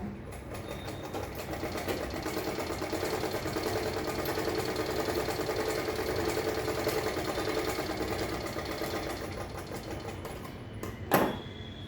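A sewing machine runs continuously, double-stitching along the top edge of a fabric piece with a fast, even mechanical whir close by, ending with a brief clack as it stops; no talk.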